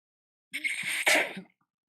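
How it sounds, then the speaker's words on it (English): A single close sneeze, a short breathy build-up followed by a sharp burst, then silence. "Hold on a second. I'm gonna sneeze."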